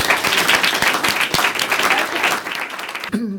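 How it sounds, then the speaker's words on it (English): Audience at a panel event giving dense, loud applause for the third panelist, John Mattison of Kaiser Permanente, sustained clapping that fades out near the end as a voice begins. "a very big round of applause."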